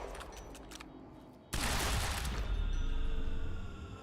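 Sustained gunfire in the video game Quantum Break as players shoot around a time machine, starting suddenly after a quieter stretch of ambient game sound and continuing as a loud, dense barrage of shots.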